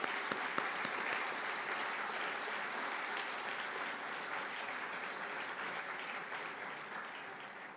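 Conference audience applauding the scientific committee, a sustained crowd clapping that opens with a few sharp claps, then holds a dense even patter for several seconds in a reverberant hall before slowly thinning.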